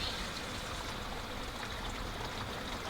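Water poured from a jerry can into a portable washing machine at an RV campsite, a steady, continuous gushing pour heard up close and fairly quiet, alone without talk.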